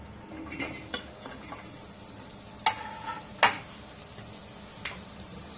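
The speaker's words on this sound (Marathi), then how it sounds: "तर कांद्याचा रंग बदलू पर्यंत आपल्याला हा कांदा भाजून घ्यायचा आहे" Onions roast on an iron tawa over a gas flame: a faint, quiet sizzle with occasional light scraping and a few sharp metallic clicks from stirring.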